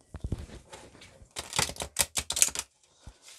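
A deck of oracle cards is shuffled close up, the cards giving quick riffling, clicking flutters in short bursts with little talk around them.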